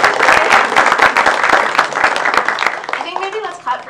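Audience applause fills a department address gathering: dense, steady clapping from many hands close by, with a few murmuring voices mixed in, thinning slightly toward the end.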